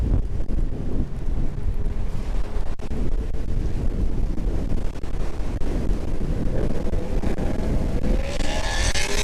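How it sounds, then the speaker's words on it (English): Strong gusting wind roars and buffets the microphone while a motorbike rides slowly toward mountains in rainy, windy weather, a loud, continuous rumbling blast with no talking. "It's quite windy, so you're not gonna be hearing me that often."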